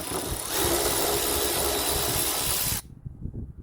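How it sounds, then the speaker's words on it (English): A power ratchet whirs loudly and continuously for nearly three seconds while fastening the spare tire carrier on a 1996 Geo Tracker, then cuts off into faint handling noise. "We're gonna put our spare tire carrier back on there. Grab our power ratchet here."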